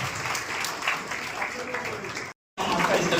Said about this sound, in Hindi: तालियों से बच्चों का हौसला अफजाई करते हुए